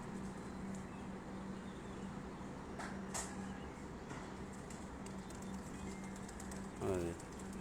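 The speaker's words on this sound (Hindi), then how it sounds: "कबूतर निकलने शुरू हो गए हैं जी माशाल्लाह जी।" Flock of pigeons being released at an outdoor pigeon-flying festival in Punjab, faint flutter and soft calls under distant crowd murmur, with a brief burst of wingbeats and a bird call near the end.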